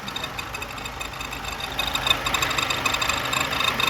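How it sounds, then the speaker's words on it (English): A car engine idles with a steady mechanical clatter coming from inside the timing cover, where a persistent fault ticks and rattles at an even, moderate loudness throughout. "Yeah, that noise is inside the timing cover"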